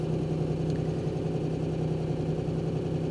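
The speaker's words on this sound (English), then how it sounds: "Engine's a little rattly. I'm hoping maybe that'll quiet down in a minute." Mazda RX-8 with a manual gearbox idling with a rattly engine and an exhaust leak, giving a steady, loud, low rumble that holds evenly throughout with no talking.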